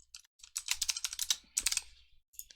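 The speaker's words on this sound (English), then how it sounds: "you can type anything you want, like Carl Weezer." Typing on a computer keyboard: quick bursts of crisp, close key clicks in two runs separated by a brief pause, with no voices.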